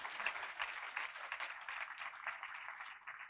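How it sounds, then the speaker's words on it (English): Light audience clapping at a ribbon-cutting ceremony, a thin continuous patter of hands heard from a distance, faint and fairly even, with no speech over it. "You can clap for that."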